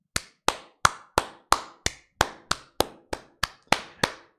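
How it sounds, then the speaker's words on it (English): Slow, evenly spaced sharp claps, about a dozen, each ringing briefly in a reverberant room, sounding like one or two people clapping rather than a full crowd. "A round of applause for my friends."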